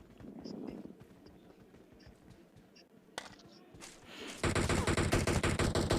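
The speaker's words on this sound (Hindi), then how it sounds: "ये फायर आता है ऊपर से" Gunfire from above in the mobile battle royale game PUBG Mobile, a sudden sharp shot followed by a loud, sustained rapid burst of automatic fire dominating the end, over softer game ambience and footsteps.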